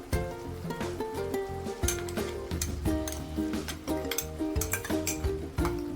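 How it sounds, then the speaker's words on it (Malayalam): Coconut paste is stirred into Kerala crab thoran in a pan, a busy run of scraping, clinking spoon strokes against metal over a light sizzle, repeated in quick uneven rhythm. "അതേപോലെ നമുക്കിനി നന്നായിട്ടൊന്ന് മിക്സ് ചെയ്യാം."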